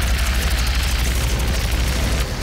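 Grenades explode in Doom, a loud continuous low rumbling boom filling the whole stretch with dense roaring blast noise and no voices.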